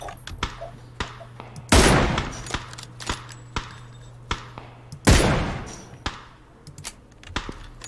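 Bursts of gunfire in PUBG: repeated sharp single shots scattered through the clip, with two louder, longer volleys of rapid fire, over a low steady hum.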